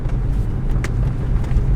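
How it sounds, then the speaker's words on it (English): A Mercedes-AMG car engine in sport mode rumbles loudly and steadily, with a deep exhaust drone and slight fluctuations, close by. "We're gonna hear an exhaust clip after. I just want to give it a pull."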